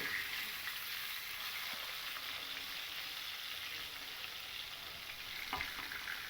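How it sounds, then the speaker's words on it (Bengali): Pieces of katla fish fry in oil with a faint, even, continuous sizzle and a soft occasional clink of a utensil. No voices are heard. "এদিকে দেখুন আমাদের মাছগুলো কিন্তু খুব ভালো করেই ভাজা হয়ে গেছে"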